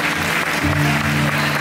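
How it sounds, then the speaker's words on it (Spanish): Loud applause from a crowd at a quinceañera vals for the chambelanes, a steady wash of clapping with music tones sustained underneath. "Un fuerte aplauso, por favor."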